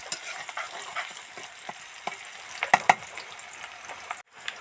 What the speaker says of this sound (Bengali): তো পেঁয়াজটাকে হালকা ভাজা নিয়েছি